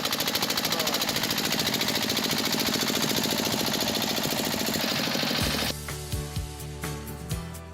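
A voice imitates an electric generator starting. Several seconds of rapid, buzzing rattle give way to a string of sharp, separate popping bursts, close and loud.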